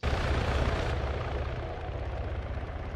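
Military helicopters spooling up in a video game, a loud, dense rotor and engine roar with a steady low chop, continuous and close for the whole stretch.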